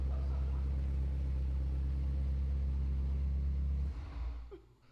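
A car engine runs loud and steady with a deep, thick rumble, then drops away abruptly near the end and fades toward quiet.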